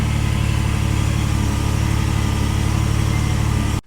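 A Nissan GQ Patrol engine fitted with a Holley 350 carburettor idles steadily and loudly up close, a continuous low rumble with no one talking, cutting off abruptly at the end.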